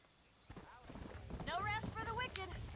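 Horses in the Red Dead Redemption video game outside Armadillo, with hoof clip-clops and a whinny rising over a quiet start, while a voice speaks over the animal sounds.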